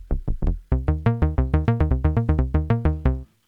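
A synth lead patch recreating a track plays a fast run of short, evenly pulsed notes, loud and clean, then stops abruptly.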